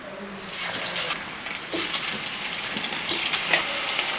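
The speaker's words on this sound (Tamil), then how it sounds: "எண்ணெய் மிதமான சூடை வந்ததுக்கு அப்புறங்க நம்ம அந்த உருண்டையில போட்டு பொரிச்சு எடுத்துக்கலாம்" Aval bonda balls frying in medium-hot oil make a steady, close broadband sizzle with bursts of bubbling crackle that swell now and then, with no voices over it.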